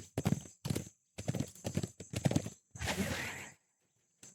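A horse mount's hooves clop in quick, rhythmic bursts in the fantasy online game DDO, several sharp groups of hoofbeats separated by short gaps, ending with a longer scuffing step.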